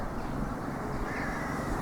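Harsh gull calls cry out against steady wind and broadband outdoor noise atop the walls of Laugharne Castle, with no one talking.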